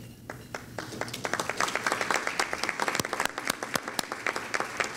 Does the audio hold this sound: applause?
yes